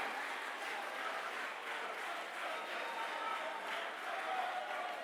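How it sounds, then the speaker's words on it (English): Sustained applause and crowd noise from a church concert audience honoring a diocesan champion choir, a steady, even wash of clapping at moderate distance with no clear breaks. "Let's clap for them again. Let's clap for them."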